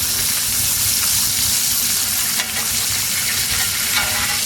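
Butter sizzles loudly and steadily in a tilted pan while a steak is basted, a dense, close hiss with a brief dip partway through.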